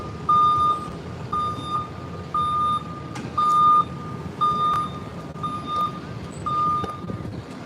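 A tow truck's reversing alarm beeps on a city street, steady repeated tones in a regular rhythm over a loud, continuous roar of engine and traffic noise.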